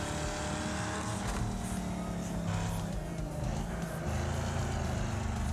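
Cars roar and crash through a chaotic demolition-derby race in the video game Wreckfest, a dense, continuous engine drone with scraping and impact bursts layered throughout, loud and close with no pauses.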